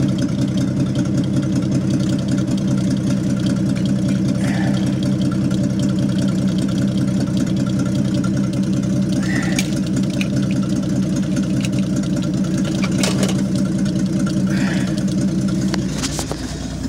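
The engine of a 1972 Chevy pickup truck runs for about seventeen seconds, a loud, steady idle with an even low rumble and a faint rhythmic knock underneath, with no talking.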